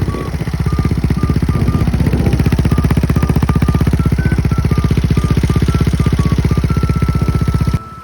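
A Yamaha Mio scooter fitted with a Replica Pro exhaust idles close by, a steady low, even putter that is notably quiet and smooth, holding constant for several seconds before cutting off near the end.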